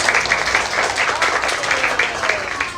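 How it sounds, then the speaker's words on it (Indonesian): A classroom of children claps together, rhythmic bursts of hand clapping repeating in quick pulses, fairly close and lively, with some voices mixed in. "kita tepuk tangan"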